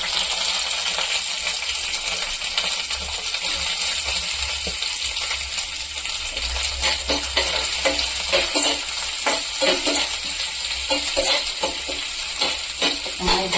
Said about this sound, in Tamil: வெங்காயத்துக்கு நல்லா வதங்கிட்டோம்